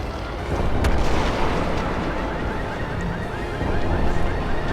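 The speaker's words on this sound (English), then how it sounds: "Target locked. Missile away. Confirmed missile hit." A missile explosion in the video game Crysis 2, a loud sustained rumbling blast with roaring debris noise that stays heavy and continuous for several seconds.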